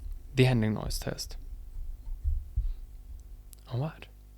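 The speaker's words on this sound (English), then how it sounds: "The handling noise test." Soft thumps and rubbing bumps of a Rode PodMic or Vocaster DM14v microphone being handled, scattered irregularly, with a couple of brief voiced bursts between them.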